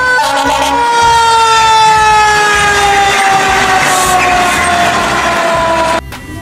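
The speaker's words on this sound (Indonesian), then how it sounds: "yang ini ada mobil pemadam kebakaran" A loud wailing siren from a toy fire truck sweeps steadily downward in pitch, then cuts off abruptly near the end.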